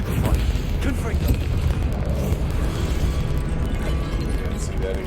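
Booming explosive blasts of the Confringo spell in the video game Hogwarts Legacy, heavy low rumbles and bursts layered over continuous loud combat noise, with a voice talking over them.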